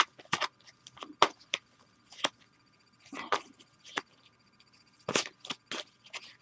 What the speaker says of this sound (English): Shuffle more cards.